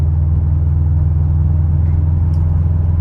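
A car fitted with a swapped 6-speed transmission cruises steadily, its engine a loud, constant low rumble heard from inside the cabin with no speech.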